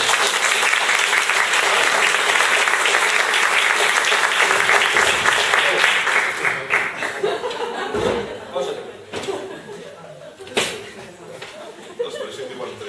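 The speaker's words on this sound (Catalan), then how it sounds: "Pablo es mereix un aplaudiment." An audience at a gastronomy and poetry event claps loudly for Pablo for about six seconds. The applause then thins into scattered claps with laughter and talk.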